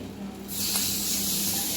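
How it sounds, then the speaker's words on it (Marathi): Hot oil tempering is poured into a jackfruit curry and sizzles. The burst of loud sizzling hiss starts abruptly and holds steady to the end, close by, over a faint low hum. "फोडणी टाकून घेतली"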